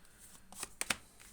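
A few quick shuffles and slaps of tarot cards being handled close up, three brief crisp bursts in a quiet room.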